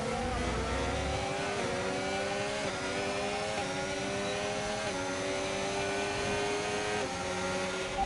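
An F1 car engine in the F1 25 video game at the Japan round, held steadily on throttle with rising pitch through the gears and repeated upshift steps, loud and continuous with no talk.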